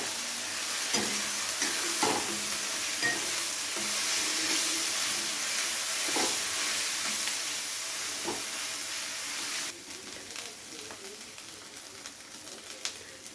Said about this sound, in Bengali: আবারও পেঁয়াজের সাথে সমস্ত কিছুকে একসাথে ভালো করে কষিয়ে নেব যতক্ষণে না আদা রসুন মশলার কাঁচা গন্ধটা চলে যাচ্ছে